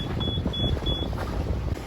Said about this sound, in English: that was the bow thruster